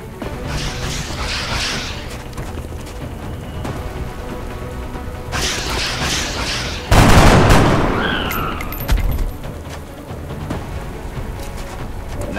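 Gunfire in XCOM: Enemy Unknown, with a sharp loud blast followed by a crackling, decaying burst over rumbling background ambience, then a smaller second impact.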